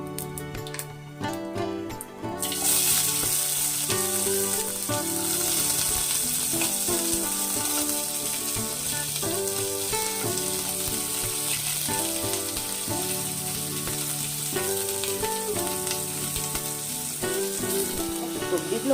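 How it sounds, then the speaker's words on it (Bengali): Chopped vegetables fry in hot oil with cumin seeds, a loud continuous close sizzle that starts abruptly and runs steadily throughout, with a faint background tone and no speech. "সবজিগুলো ভাজার জন্য আমি একটু নুন দিয়ে আমি নাড়াচাড়া করে এটিকে 5 মিনিটের জন্য ঢাকা দিয়ে দেব।"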